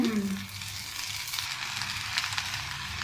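Carrots and bell peppers fry in a pan for chicken vegetable fried rice, giving a steady, dense sizzle that carries on evenly throughout at a moderate level, with no talking.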